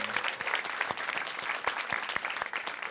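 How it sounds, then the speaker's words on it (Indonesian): Audience applause at an Indonesian stand-up comedy show, a steady wash of clapping hands throughout, moderately loud and sustained with no voices over it. "Tepuk tangan."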